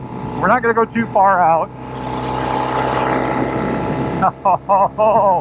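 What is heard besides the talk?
1972 Norton 750 Commando motorcycle engine accelerating through gears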